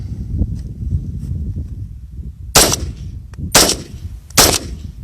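Three sharp, loud gunshots from a rifle being field tested with a Flare Mini, spaced about a second apart, over a low rumble of outdoor background noise.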